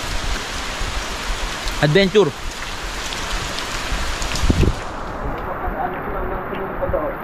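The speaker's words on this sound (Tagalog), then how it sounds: "Oo nga, ayan oh. Tubig ulan." Steady rain falls as a constant close hiss throughout, with a couple of brief louder knocks and a short spoken word partway through.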